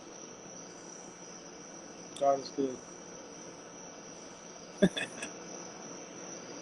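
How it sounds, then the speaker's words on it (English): Steady, high-pitched cricket chirping fills the background throughout, with someone briefly speaking twice over it. "You hear the crickets?"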